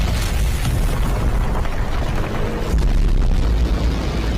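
A missile explodes in a Hindi-dubbed skibidi toilet animation, heard as a loud, sustained booming roar with a fresh heavy surge near the end, filling the whole stretch without speech.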